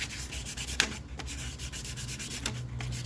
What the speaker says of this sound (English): I'm gonna take these pipes here and I'm gonna sand around them a little bit there